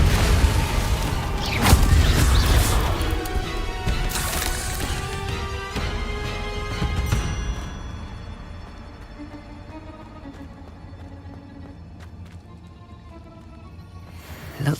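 A Confringo blasting spell bursts in Hogwarts Legacy, giving loud booming impacts and crashes in the first half that fade into a quieter rumbling echo with a few small pops.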